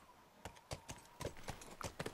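Horse hooves clip-clop at a slow walk in The Last of Us, a series of distinct, evenly spaced clops at moderate distance over a quiet background.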